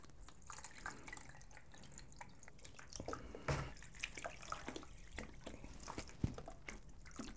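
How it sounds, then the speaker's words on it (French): A graphics card rinsed under water, with a soft running trickle broken by scattered drips and splashes, close and fairly quiet, no voices. "il faut entièrement la rincer pour enlever tout l'acétone et le reste de bicarbonate de soude qu'il y a peut-être encore sur la carte"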